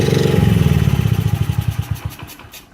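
A mini bike's small engine runs loud and close at a steady throttle, then sputters into slowing, separate firing pulses as it shuts off and dies away to silence.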